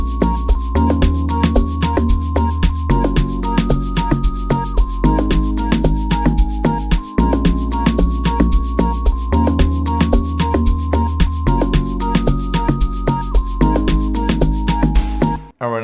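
A full type beat built with DX10 lock drum elements plays all its layers together, a loud looping groove of steady punchy drums, deep bass and repeating melodic notes running for about sixteen seconds before cutting off.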